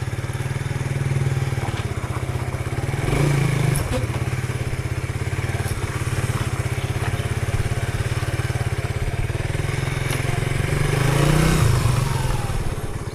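Motorcycle ride on an Angkas motorcycle taxi, with a steady engine drone running throughout, swelling louder twice and joined by occasional clatter and wind noise.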